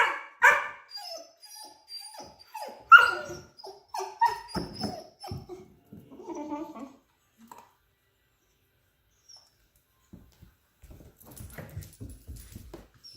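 A dog barks and whimpers in short bursts close by, loudest early on, with a friendly voice praising it between the yelps, then a quiet stretch before softer whines and rustling return.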